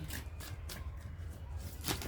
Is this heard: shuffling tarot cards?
yes